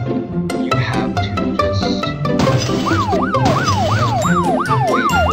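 A wailing ambulance siren in Traffic Mania sweeps up and down repeatedly over a busy mix of engine rumble and electronic game sounds, loud and close.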